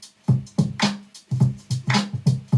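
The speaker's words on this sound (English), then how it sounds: "So I've loaded up this drum loop here to play along with" A drum loop plays back in Ableton Live on a Push 2 controller, a two-bar pattern of punchy kicks and bright snare or hat hits repeating in a tight, steady rhythm, close and alone.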